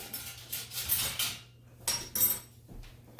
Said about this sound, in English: So then you're just gonna whisk this all together.